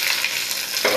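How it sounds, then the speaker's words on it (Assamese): Curry leaves and mustard seeds crackling in hot oil, a bright continuous sizzle close up with a slight surge at the end as the pan is stirred. "প্ৰথমতে মই নৰসিংহৰ পাত দি দিছোঁ আৰু ইয়াৰ লগত সৰিয়হ দি দিছোঁ"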